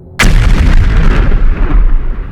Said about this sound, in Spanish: Una explosión ensordecedora sacudió el océano